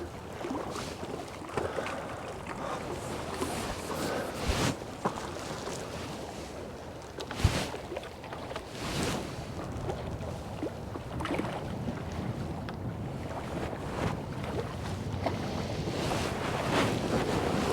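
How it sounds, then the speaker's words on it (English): Steady wind buffets the microphone while waves wash against a jetty during a fishing session, a continuous roar with occasional louder gusts and splashes. "The wind's just blowing my line just onto the jetty, but the tide should pull it round."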